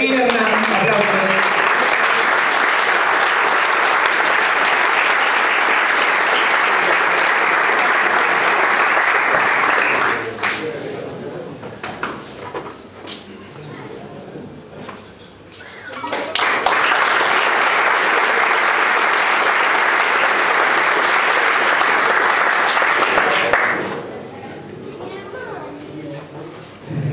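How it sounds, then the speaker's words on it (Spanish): An audience at a documentary presentation breaks into loud, sustained applause, drops to a quieter murmur, then swells into a second long burst of clapping before dying down again; the crowd sounds close and full. "Ahí viene Hernán, aplausos"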